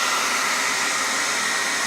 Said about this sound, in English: So we're gonna go ahead and use our blow dryer.